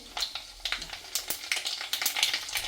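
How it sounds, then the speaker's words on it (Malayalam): Mustard seeds splutter in hot oil in a pan while cooking a chemballi fish curry, giving off rapid, irregular crackling pops over a soft sizzle, close and fairly loud. "നല്ല ഓയിൽ ചൂടായ നല്ലോണം കടുക് പൊട്ടും"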